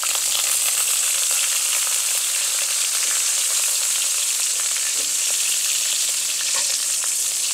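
Butter sizzling loudly in a pan for cooking tilapia, a dense, steady hiss of frying with fine crackles throughout, close and unbroken, with no voices.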